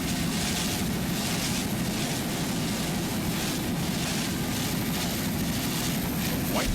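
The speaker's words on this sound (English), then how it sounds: "Nice throttling there by Paul Whittier." Offshore racing powerboat, 1999 West Palm Beach race, engine roaring at full throttle in a dense, continuous, loud drone with constant wind and spray rush, heard from onboard.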